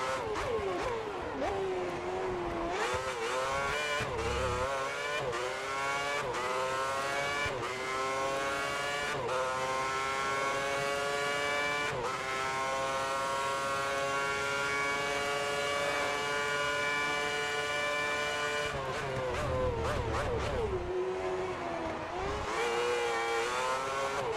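Race car engines in the F1 2010 PC game, a continuous high whine that rises and falls with gear changes and revving as cars overtake, steady and loud with no talk.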